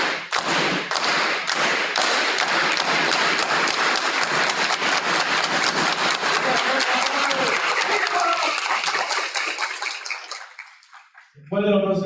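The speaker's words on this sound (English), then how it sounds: "why don't we give a big Farmworker clap for the veterans of the Farmworker movement that are here with us today" An audience at a Farmworker movement civic gathering does the rhythmic Farmworker clap, starting with slow, distinct claps that speed up into a dense, rapid burst of applause before fading, followed by a voice speaking.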